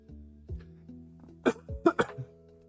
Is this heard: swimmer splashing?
no